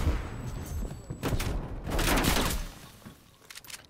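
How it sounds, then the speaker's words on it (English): Shotgun blasts in a video game fire in a quick burst of loud, booming shots with other gunfire and chaotic game noise around them, all close and punchy. "Using this shotgun now."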